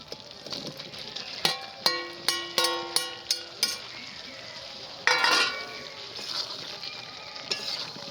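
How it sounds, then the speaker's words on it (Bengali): Fried jackfruit goes into a pan of cooked spice masala for a Bengali doi echor dish, with several bright metallic clanks of a utensil on the pan, then a surge of sizzling and stirring that continues more softly. "এবার দিয়ে দিচ্ছি ভেজে রাখা এঁচোড়।"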